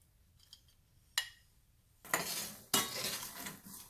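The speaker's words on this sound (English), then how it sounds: "I am going to add sesame seeds in this stage." Sesame seeds tipped into a pan of roasting groundnuts and stirred, giving a few sharp clinks of a utensil on the pan followed by bursts of dry rattling and scraping, close by.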